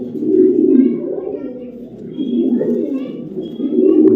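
A racing pigeon is held in the hand, giving low continuous cooing close by while someone talks over it.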